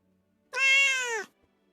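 A single clear cat meow, close and fairly loud, rising and then falling over about three-quarters of a second before silence returns.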